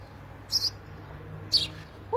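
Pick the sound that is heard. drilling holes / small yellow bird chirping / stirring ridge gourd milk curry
small yellow bird chirping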